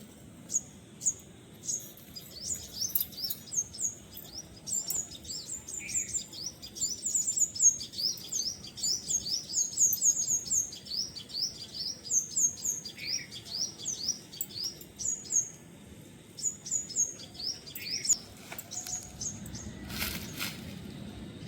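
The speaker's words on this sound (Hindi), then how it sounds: "चिड़िया लोग का आवाज़ सुन के मुंडी हिला रही" Many small birds chirp and sing outdoors in Kolkata, a busy overlapping chorus of quick high tweets that runs throughout, fairly faint, over a soft background hum.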